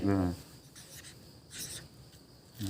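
A pen or pencil writing numbers on paper, producing short scratchy strokes in quick bursts, close by, with a voice talking briefly at the start and end.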